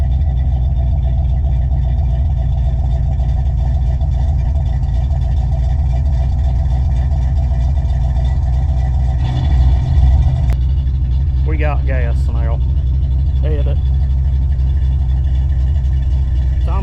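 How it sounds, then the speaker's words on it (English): A 1995 Ford Mustang GT with a swapped 351 Windsor V8 idles steadily and loudly, a continuous low rumble throughout, with brief high squeaks or chirps near the end. "honestly the best the car's sounded in a long time"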